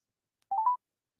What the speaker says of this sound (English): Come on, Nita, you pick up the phone too